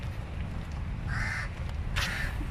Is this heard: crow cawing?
yes